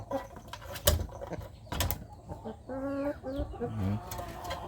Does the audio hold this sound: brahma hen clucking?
yes